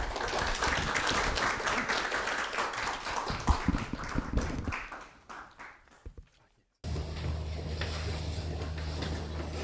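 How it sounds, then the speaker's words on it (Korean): Audience applause at a Korean literature lecture by a poet, loud sustained clapping that fades out, followed after a brief silence by a steady low hum of the room. "귀한 특강해 주신 김상희 선생님께 다시 한번 큰 박수 좀 부탁드립니다"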